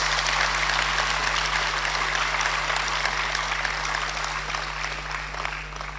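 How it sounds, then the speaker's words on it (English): Sustained crowd applause for a national party chairman at a political state-of-the-nation address, a dense even wash of clapping for six seconds over a low steady electrical hum, slowly tapering. "Let's give our national chairman another round of applause."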